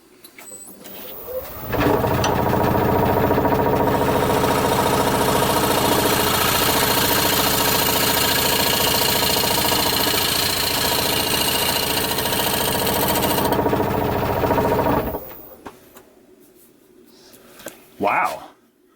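A Thompson Tools bowl scraper cuts a wooden bowl spinning on a lathe, a loud, steady scraping drone for about thirteen seconds before it stops and the room falls quiet.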